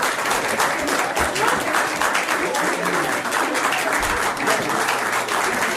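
Applause and clapping from a small crowd, a dense, even patter of hands that stays steady and fairly loud throughout before cutting off abruptly at the end.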